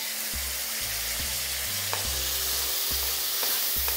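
Foxtail millet pulihora seasoning is stirred and fried in a pan, giving a steady close sizzle broken by occasional scraping stirs, with no talking.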